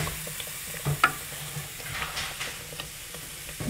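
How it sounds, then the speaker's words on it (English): A spoon stirs dal in a hot pan, producing a quiet sizzle with a few short scraping clicks over a few seconds, no voices. "give that a stir, because I don't want it to stick to the bottom"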